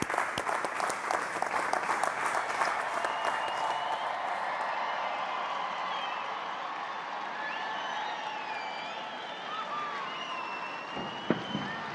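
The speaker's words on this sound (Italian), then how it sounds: "Applauso." Crowd applause at the Sunday Angelus, dense clapping from a large outdoor gathering that is strongest at first and then settles into a sustained, softer wash with scattered cheers.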